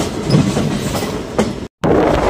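A local train in Assam runs toward New Bongaigaon junction with a steady rumbling clickety-clack of wheels over rail joints, close and continuous apart from a brief dropout near the end.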